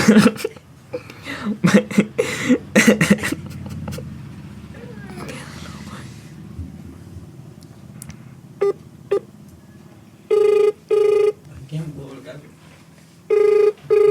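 Phone ringback and dialing tones during a prank call, with bursts of ringing that stop and start amid muffled talk and handling noise, then periodic beeping tone pulses near the end.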